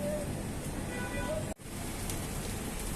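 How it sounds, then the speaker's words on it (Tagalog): Rain falling in Dubai during summer, a steady soft patter of drops with a brief dropout partway through, fairly faint and continuous. "Pumapatak ng ulan."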